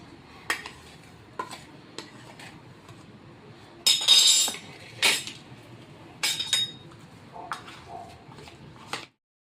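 A spice mix of cold masala, cumin powder, coriander powder and salt is mixed by hand in a bowl for Nagpur-style stuffed dhemas. Soft rustling is broken by several sharp clinks and scraping bursts against the bowl.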